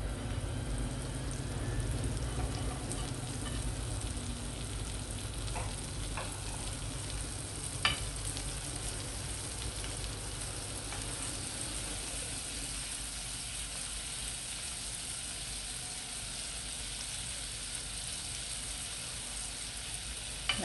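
French toast slices frying in a pan over medium-low heat, giving a steady, close, even sizzle with faint scraping stirs and an occasional soft clink, with no one talking.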